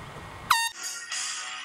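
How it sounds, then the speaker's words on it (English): An air horn is blown aboard a boat, a loud, brassy blast that jumps in abruptly, close by, followed by a sustained harmonic honk that wavers before a second burst starts at the end. "I'm on a boat, and I got an air horn."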